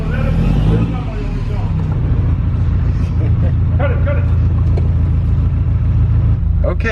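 Ferrari 308 GTB barn find being revved, a steady deep engine drone with low rumble running the whole time, close and loud, with people talking over it.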